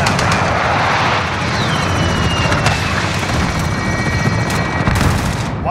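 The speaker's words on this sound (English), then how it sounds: "Allied chopper gunner arriving." Allied chopper gunner helicopter in Call of Duty Modern Warfare, a continuous loud rotor roar with bursts of gunfire and scattered shots through the mix.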